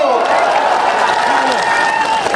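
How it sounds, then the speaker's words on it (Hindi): Dense, steady applause from a crowd, loud and continuous throughout, with a faint tonal voice or whistle running underneath. "ठोको ताली ठोको"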